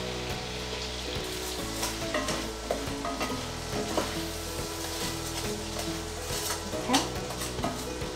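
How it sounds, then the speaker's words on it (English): Partly frozen reindeer meat frying in a pan, a loud continuous sizzle with frequent scraping and stirring clatter of a utensil; one short word is spoken. "So you can just put all of the reindeer meat in, fry it."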